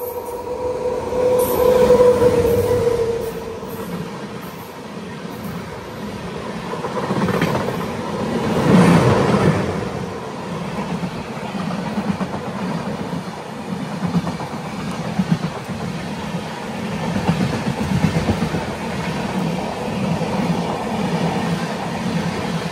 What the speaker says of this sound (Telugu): ఇప్పుడు వెళ్ళింది కదా బండి. ఆ బండి ఏంటంటే హౌరా టు యశ్వంత్పూర్.